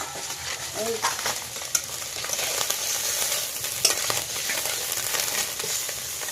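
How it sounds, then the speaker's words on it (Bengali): Fish frying in a wok in a Sundarbans village kitchen sizzles steadily and crackles, with a few louder pops and scraping stirs over the continuous hiss. "বন্ধুরা এইবার আমার মাছ ভাজা হয়ে গেছে"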